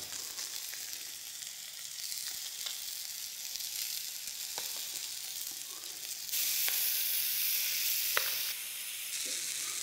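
Pieces of sea bass fry in a pan with a loud, steady sizzle that swells partway through, dotted with faint ticks and pops.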